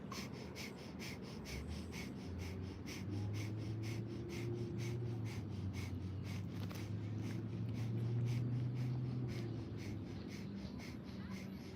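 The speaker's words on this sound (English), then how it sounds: "Breath of fire, pulse our belly one more time." Rapid, rhythmic breath of fire yoga breathing with the belly pulsing, sharp nasal exhales repeating evenly over about a dozen seconds beneath a steady low drone.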